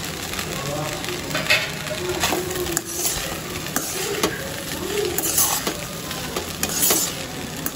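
Fried potato pieces added to a frying pan and stirred, close scraping and clattering strokes over a constant sizzle, with continuous busy motion throughout.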